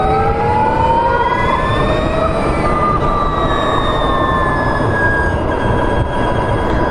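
The Harley-Davidson LiveWire electric motorcycle at full throttle gives a loud, steady high-pitched electric motor whine that rises in pitch, over constant road and wind roar, close and continuous.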